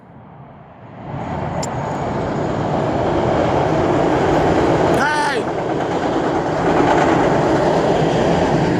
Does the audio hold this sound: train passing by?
yes